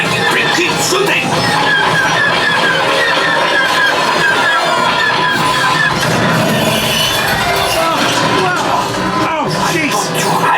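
Star Wars ride-train rumble and clatter during a simulated attack on a Disney's Hollywood Studios attraction, loud and continuous throughout with voices talking over it.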